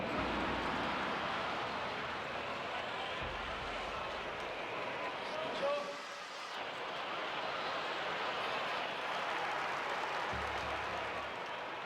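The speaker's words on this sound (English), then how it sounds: "I like the crowd noise in this game." Crowd cheering in the Nintendo 64 game Nagano Winter Olympics 98, a steady wash of roaring spectators that barely dips midway, running continuously under game sounds.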